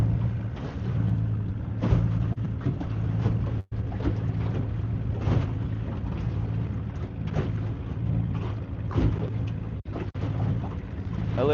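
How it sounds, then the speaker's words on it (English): Cold wind blows across Canyon Ferry lake beside a rocky island shore, a steady low roar with buffeting gusts on the microphone throughout, loud and continuous. "This wind's blowing."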